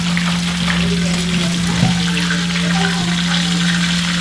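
Sautéing in a pan for sinigang sa kalamansi with talakitok fish head: a steady, close sizzle with a low electrical hum underneath and faint background sounds throughout.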